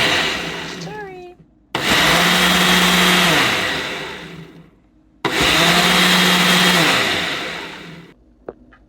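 A Ninja blender mixes a protein smoothie in two loud bursts, each starting abruptly, holding a steady whirring roar, then winding down, with a short speech-like sound before the first run.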